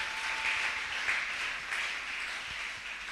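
A church congregation applauds in praise during a worship service, a dense, steady wash of many hands clapping, fairly distant and reverberant, with no one speaking over it.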